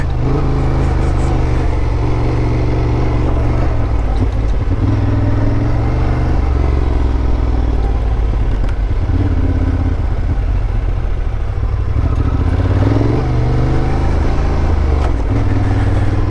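A Honda Transalp motorcycle engine runs loud and close on an Idaho trail, a steady rumbling drone with rising and falling revs and mechanical clatter throughout.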